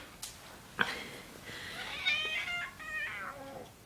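A pet cat that has just been woken up lets out a few drawn-out meows close by, rising and wavering, with faint background noise and no talking.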